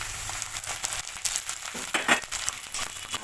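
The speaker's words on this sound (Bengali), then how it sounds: "এবার দিয়ে দিচ্ছি আদা বাটা।" Ginger paste hits onion and garlic frying in a wok, a steady crackling sizzle with bursts of louder spitting and scraping as it is stirred, moderately close and free of talk.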